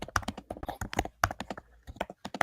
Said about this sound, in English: I can hear the typing